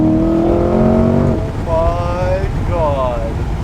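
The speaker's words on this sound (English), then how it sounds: "give it a bit of an acceleration here" A 2021 Corvette C8 mid-engine sports car revs and pulls hard through several gear changes, its whine rising and dropping, heard from inside with some wind noise and a voice.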